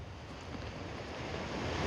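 Ocean waves washing onto a beach at dawn make a steady, broad rushing surf with some wind noise on the microphone. There is no pause or talk.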